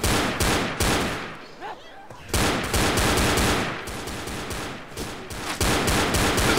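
Rapid bursts of gunfire cut down zombies in Left 4 Dead, loud and dense with short gaps, chattering shots repeating across the whole stretch alongside game noise.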